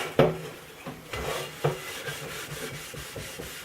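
A stainless steel frying pan is scrubbed by hand in a few short, uneven rubbing strokes. The rasping sounds are close and moderately loud, broken by brief pauses and a couple of sharper scrapes, with no voices.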